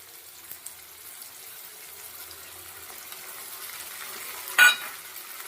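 Chicken liver and gizzard fry in a pan with salt, turmeric, ginger paste and garlic paste, giving a soft, steady sizzle. A single sharp stirring clatter comes near the end, and no one speaks.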